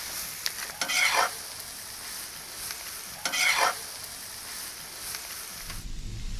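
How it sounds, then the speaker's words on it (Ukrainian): Small portions of meat fry in rendered fat for Cossack kulish, a continuous close sizzle with two louder bursts of crackling as pieces are stirred or added, no voices. "Завдяки тому, що закладаємо м'ясо маленькими порціями, воно красиво обсмажується"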